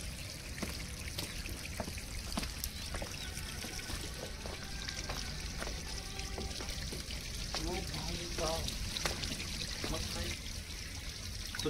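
Water pours and trickles steadily down into Mastani Lake near Pune, a continuous close rushing flow with occasional splashy bursts, carrying on throughout with no voices over it.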